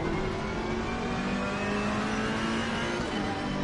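A GT race car's engine in Assetto Corsa Competizione, racing at Kyalami, drones and revs steadily at moderate level with a constant roar and no talking.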